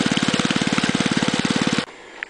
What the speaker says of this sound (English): Now I'm going to wind it up with the throttle.